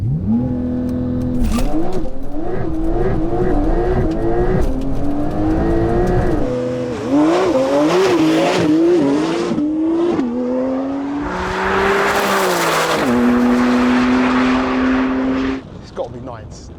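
Car accelerating hard down a drag strip on a timed run, its engine climbing through a series of rising, shifting revs, loud and close, before settling into a sustained high drone that drops away at the end.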